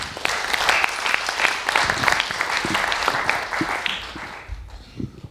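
A festival audience at a talk on videogames breaks into steady, dense clapping that fades out near the end.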